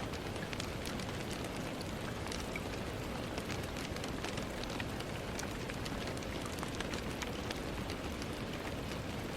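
Steady rain falls without a break, a dense, even hiss of drops pattering on surfaces with scattered sharper splashes, fairly close and unchanging, with no voices or other sounds breaking through.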